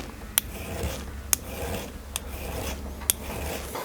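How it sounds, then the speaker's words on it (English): A big file levels the top of a metal ring, giving a continuous close rasping scrape punctuated by four sharp metallic ticks spaced roughly a second apart. "So what you can do is just take a big file, and just"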